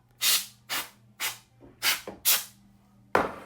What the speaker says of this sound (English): I'm gonna go through and spray this with the canned air